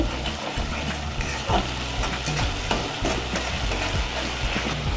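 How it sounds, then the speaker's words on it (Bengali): Cumin seeds and dried red chillies frying in hot oil in a wok, a steady close sizzle with faint stirring scrapes running throughout. "এরপর কড়াইয়ের মধ্যে আমরা তেল দিয়ে এর মধ্যে দেবো জিরে ফোড়ন এবং শুকনো লঙ্কা"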